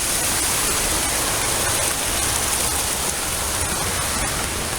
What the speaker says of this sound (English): Uh-oh, here's our major waterfall.